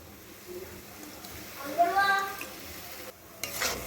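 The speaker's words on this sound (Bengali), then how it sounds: "এইভাবেই অল্প অল্প জল দেবো আর এটাকে নাড়াচাড়া করে মিশিয়ে নেব" Semolina upma is stirred in a pan while small amounts of water are added. Soft scraping and light sizzling stay quiet in the background, with a brief voice-like tone in the middle and a few short clinks of a spoon or pan.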